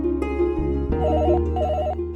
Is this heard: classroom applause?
no